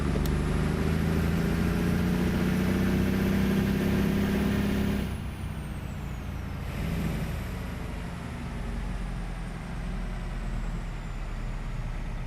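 A heavy truck engine in American Truck Simulator on a live cattle haul: a loud, steady droning rumble that drops suddenly into a softer idle, with an air-brake hiss at the change.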